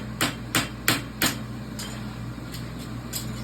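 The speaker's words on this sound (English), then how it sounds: "As you're hammering this down, the shoe closes." A hammer strikes a horseshoe on an anvil with four sharp ringing blows at a steady rhythm, followed by lighter, fainter taps over a low workshop hum.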